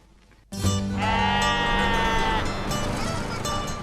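At a sheep shearing display, a sheep lets out a long, loud, wavering bleat close by, with background crowd noise and faint voices around it.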